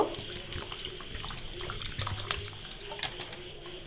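Raw short-grain rice being rinsed clean under a running kitchen tap, with a steady close stream of water and soft splashing and swishing throughout, no voices.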